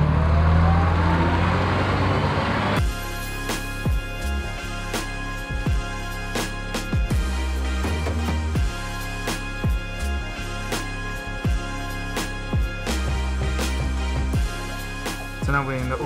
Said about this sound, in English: So now we're in the old retro bus.